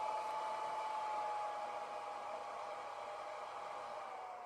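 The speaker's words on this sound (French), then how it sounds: "le ventilateur s'arrête" A small cooling fan in a Hobbymate H6 battery charger whirs steadily with a faint high tone, its hiss gradually easing and dropping in level as it winds down.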